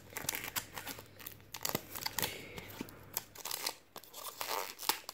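Foil trading card packets for the Buddyfight card game being torn open and crinkled up close, with a steady stream of quick ripping and crackling bursts and no talk.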